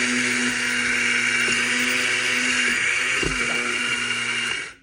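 Electric grinder steadily grinds coffee beans for French press brewing, a loud continuous whirring buzz that holds for several seconds before winding down at the end.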